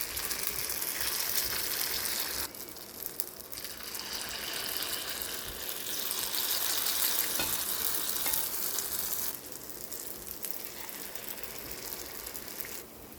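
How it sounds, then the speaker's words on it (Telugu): Spoonfuls of onion ponganalu batter fry in an oiled, heated paniyaram pan, making a soft, continuous sizzle that briefly drops in level twice. "ఇలా పెన్నం వేడెక్కాక మనం పొంగనాలు వేసుకుందాం."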